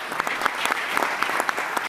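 A live audience claps steadily and loudly throughout, a dense close wash of many hands with small bursts of louder claps, and no voices on top.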